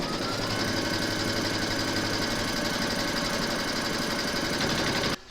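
An embroidery machine stitches the first placement outline for batting on large appliqué letters, a loud, close, continuous rapid mechanical whirring and chattering that stops abruptly at the end.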